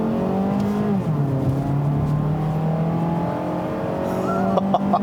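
A 2019 Mazda CX-3 engine is floored from a stop, revving up with a steady rising drone, dropping at a gear change, then climbing again, heard from inside the car.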